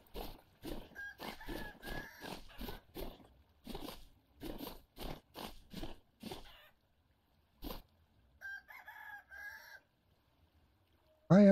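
Chickens in the Vintage Story survival game cluck in a run of quick, evenly spaced clucks, close and fairly clear. A quieter stretch follows, then a few softer, higher calls near the end.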